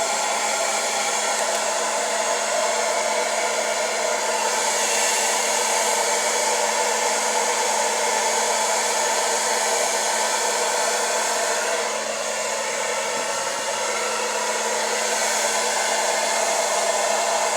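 A hair dryer on its cool shot setting blows steadily with a loud, even whoosh and fan whine close to the microphone, unbroken throughout, with no talking.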